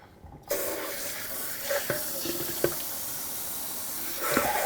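A kitchen tap runs steadily as black rice is rinsed, a continuous hiss of water with a few faint clinks and splashes, fairly close and unaccompanied by talk.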